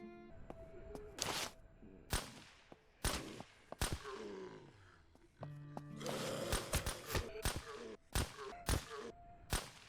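Sharp, muffled pops ring out one after another in an irregular rhythm, like suppressed gunfire, over a quiet soundscape in the game SurrounDead.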